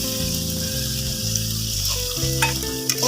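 Spice paste for prawn malai curry sizzles loudly and continuously in a pan while being gently stirred, with a few faint scrapes near the end and a steady hum in the background.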